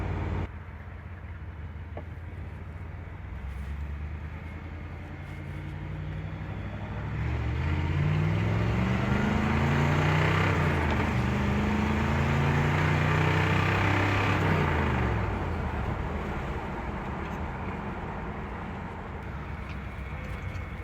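A blue 1964 Mercury Marauder drives along on a test run, its engine rumbling steadily and rising to a louder, nearby surge of revs mid-way before settling back to a cruising drone.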